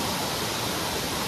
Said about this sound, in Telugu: ఎసరు అయితే వచ్చిందండి, ఇదిగో చూసారు కదా వాటర్ లో బబుల్ చూసేసారా